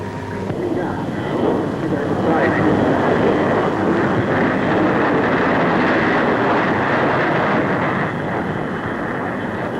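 A de Havilland 110 jet flies at the Farnborough airshow in the 1950s, its dense, roaring rush holding loud and steady from start to finish like a close pass.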